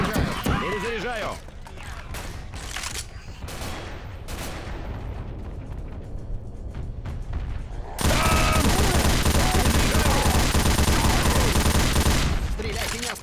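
Gunfire in the Half-Life mod City 17 crackles in dense repeated bursts, with a heavier sustained barrage later, and game voices speak over the shooting.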